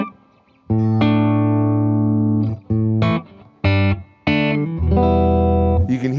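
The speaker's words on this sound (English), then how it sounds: "This is the Reverend Alnico humbucker in the neck." A Pete Anderson Eastsider Custom electric guitar with a 24 3/4 scale plays through its Reverend Alnico humbucker neck pickup, giving a mellow tone. Several sustained notes and chords ring out clearly, with brief gaps between them and no talking.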